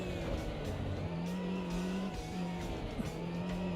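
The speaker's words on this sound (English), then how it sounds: "We're going to have a bonkers Murcielago race at Alton Park." Lamborghini Murcielago race cars in the racing game Automobilista 2 at Alton Park, with a steady loud engine drone holding a constant pitch and faint tyre noise throughout.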